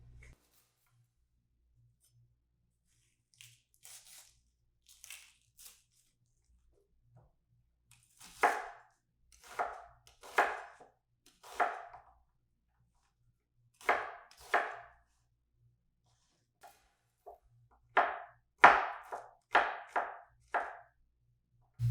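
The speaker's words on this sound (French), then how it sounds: "on va couper grossièrement notre ail et notre oignon." Garlic and onion being coarsely chopped on a board for a pork braise: sparse knife chops at first, then clusters of crisp, close thuds with quiet gaps between them.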